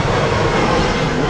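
A fixed-wing airplane roars overhead near an old railway trackbed between Luton and Harpenden, a loud, steady engine drone that fills the whole moment without speech.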